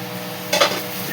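Onion and tomato cook in a pan with a soft, steady sizzle, broken by a brief stirring scrape near the middle.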